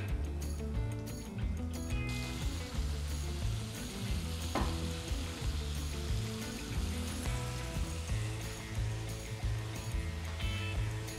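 Prawns for stir-fried prawns in oyster sauce fry in a pan with a continuous close sizzle and crackle, under steady rhythmic music.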